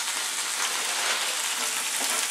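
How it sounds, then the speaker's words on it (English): Food fries in a pan, a steady crackling sizzle with dense fine hiss and scattered pops, close and continuous without talk. "Now whilst that is frying,"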